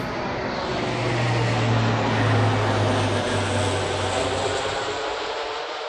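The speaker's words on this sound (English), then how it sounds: "We still have a airplane going over." An airplane passes overhead in Warwick: a loud, steady engine roar with a low droning hum that swells toward the middle and holds throughout, with no one talking.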